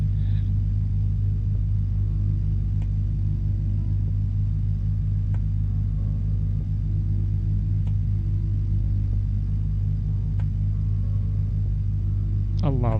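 A propeller engine drones steadily on the Aerobask Lancair Legacy RG in a flight simulator, a loud, even rumble with faint clicks over it.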